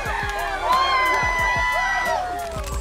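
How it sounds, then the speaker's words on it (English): Tourists at a Yellowstone geyser eruption cheer, whoop and scream together, a loud, dense crowd of overlapping shouts rising and falling throughout. "Tourists were cheering and screaming at the same time."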